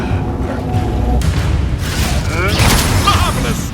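Confringo explosion spell cast in Hogwarts Legacy, with loud broadband blasts bursting through ongoing combat noise, a sharper burst near the middle and another toward the end, while a person talks over the action.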